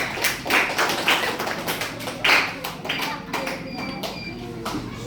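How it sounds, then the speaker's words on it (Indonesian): A class of students claps for a classmate who has just sat down during a lesson on algorithms. The claps are loose and uneven, close by in a small room, with a few voices underneath. "Tepuk tangan"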